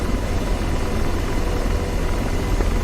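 An AH-64D Apache helicopter hover-taxis on the Syria map in DCS World, its rotor and engine making a steady, loud, close drone with no talking.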